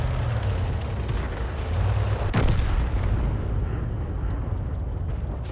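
In a tank video game, a 105 mm leFH18B2 artillery gun fires one sharp, heavy blast partway through over a constant background rumble, and the boom then trails off into a fading roar.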